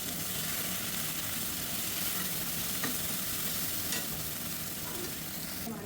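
Onions and gongura leaves frying in a pan for a prawn curry, a steady broadband sizzle with soft stirring scrapes throughout, close and even in level, no talking.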